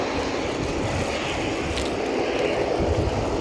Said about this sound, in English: We do have an aircraft on final approach